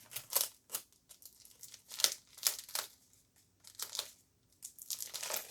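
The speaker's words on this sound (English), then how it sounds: "put a piece of tape across the top of it" Tape being pulled and pressed across the top of a jewelry bead package while packing orders, heard as close crinkling and tearing rasps in short irregular bursts with quiet gaps.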